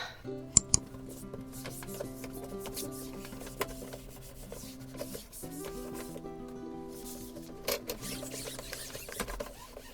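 Printer running through a sticker print job in a small home art studio, with steady mechanical whirring, rhythmic feed clunks and sliding rubs, a brief pause near the middle, then the cycle resuming, close and moderately loud.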